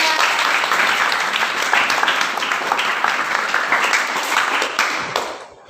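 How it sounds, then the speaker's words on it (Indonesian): Steady, dense audience applause after a poetry reading in a classroom setting, loud and continuous for several seconds before fading out at the end. "beri tepuk tangan untuk Mas Andrian"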